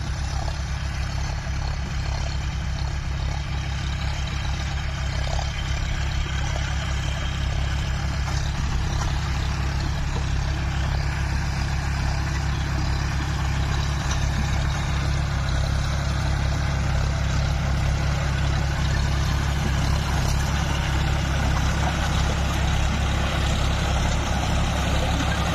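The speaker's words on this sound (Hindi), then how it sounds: "अच्छा सक्सेसफुल ट्रैक्टर निकला ये वाला जॉन डियर का" A John Deere 5050D tractor engine runs steadily and loudly at close range on a wheat-sowing farm, a constant low droning rumble with no change in pace and no talk.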